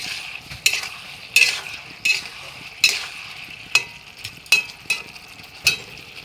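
Tomatoes being cooked down in a pan for a tilapia fish curry, a faint low sizzle under regular, evenly spaced scrapes and clinks of a spoon stirring against the metal, about eight strokes, close and with no voices.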